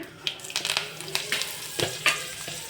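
Cumin seeds and curry leaves fry in oil over a medium gas flame for a Kathiyawadi dish, with an irregular run of sharp sizzling crackles and spits close by.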